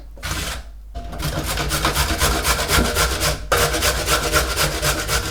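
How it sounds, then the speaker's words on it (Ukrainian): Rhythmic scraping of carrots being rubbed over a coarse grater, steady back-and-forth rasping with a brief pause near the start and another midway. "Моркву для ікри я тру на грубому терку."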